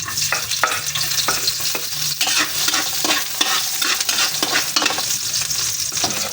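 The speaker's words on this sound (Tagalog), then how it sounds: "Yan, mainit na ang ating mantika. Ilagay natin si bawang." Garlic dropped into hot cooking oil crackles and spits loudly up close, with frequent stirring scrapes and pops over a dense continuous sizzle.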